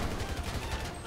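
Rapid bursts of video game gunfire in GTA V crackle continuously, like automatic weapons fire, dense and noisy with no pauses.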